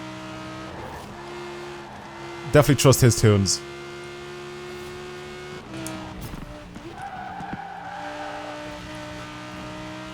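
An Italian supercar tuned for grip racing in Forza Horizon 4 gives off a steady engine drone, broken by a short burst of sharp tyre skidding partway through; someone talks over it.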